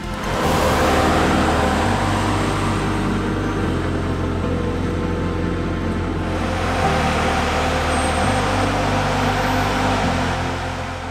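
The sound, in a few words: farm machinery mowing alfalfa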